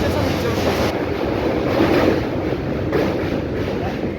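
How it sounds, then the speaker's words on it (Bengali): Steady low rumble of a Howrah–Bardhaman local train departing Kamarkundu station, with continuous mechanical roar and faint background chatter, loud and close throughout. "সুপার লোকাল না হাওড়া বর্ধমান লোকাল বেরিয়ে যাচ্ছে"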